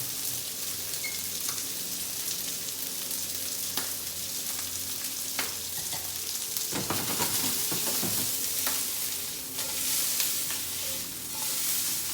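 Fat renders in a hot pan before a steak goes in, producing a continuous close sizzle with occasional pops and spatters and a few scraping stirs over the steady hiss.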